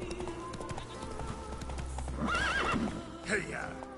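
Roach, the horse in The Witcher 3: Wild Hunt, gallops with steady clip-clopping hooves under game ambience, then gives a loud neigh and a second shorter whinny near the end.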